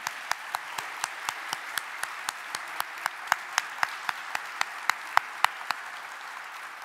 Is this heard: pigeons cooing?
no